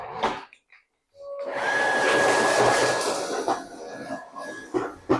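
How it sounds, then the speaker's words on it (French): A household vacuum cleaner starts up indoors after a brief silence and runs as a loud, steady whining drone for a few seconds, then fades out near the end, with no talking. "Et je vais passer l'aspirateur là d'ailleurs."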